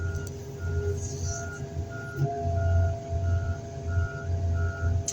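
Reversing alarm beeping in an even, repeating rhythm at a scrapyard where a Dodge truck is brought up for crushing, with a heavy truck engine rumbling close underneath.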